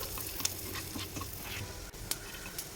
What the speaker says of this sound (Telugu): ఒక ప్యాన్లోకి కొంచెం బటర్ వేసుకొని అది కరిగిన తర్వాత అందులోకి తరిగిన ఎల్లిపాయ ముక్కలు